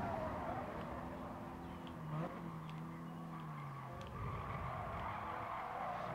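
A car in Gran Turismo Sport brakes and skids, a drawn-out tire squeal sliding downward in pitch over engine noise, with faint game sounds around it and no speech.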